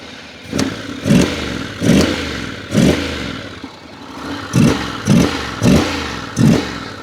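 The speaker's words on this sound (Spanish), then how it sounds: "Nos sobra volver a pegarle una aceleradita." Honda X-ADV 750 scooter engine revved repeatedly while standing: about eight short, loud throttle blips in an uneven rhythm, each rising and falling back to a low idle, up close with no talk.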